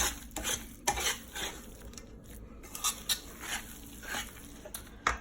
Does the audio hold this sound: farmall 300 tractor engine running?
no